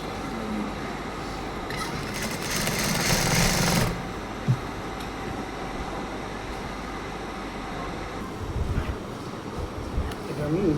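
A sewing machine stitches a chest strip onto a blouse with a steady, whirring mechanical rattle, close and continuous, briefly louder in one stretch, with faint talk around it.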